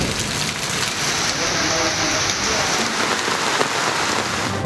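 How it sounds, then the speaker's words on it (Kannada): Heavy, unbroken rain pours down in Kodagu, Karnataka, a dense steady hiss of drops drumming on surfaces that holds at full strength throughout without letting up. "ಎಡಬಿಡದೆ ಸುರಿಯುತ್ತಿರುವ ಮಳೆ"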